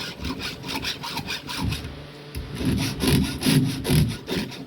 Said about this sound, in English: so I'm sharpening my milling chains